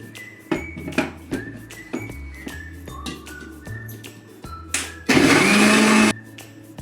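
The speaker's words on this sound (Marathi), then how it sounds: "आता आपण हे मिक्सरला फिरवून घेऊया" A mixer grinder blending curd made from milk cream whirs loudly in one short burst of about a second, among softer kitchen clatter and clinks.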